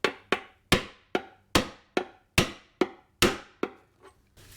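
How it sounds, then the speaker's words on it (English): A small hammer strikes about a dozen sharp, evenly spaced taps up close, seating a seal on a Ford Flex 3.5 EcoBoost valve cover, each ringing briefly, the final blows growing softer. "we'll take a little hammer, smack it in"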